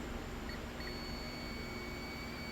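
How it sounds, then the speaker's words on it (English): A multimeter in continuity mode gives a thin, steady electronic beep as its probe touches a connector pin while an automotive crankshaft-sensor fault is traced. It starts briefly, then holds on, faint over a constant background hiss. "And it's beeping."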